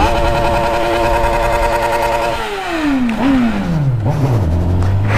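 A 2019 Honda Hornet motorcycle engine holds a steady high rev, then drops sharply and falls through repeated downshifts to a low idle-like rumble, loud and close throughout.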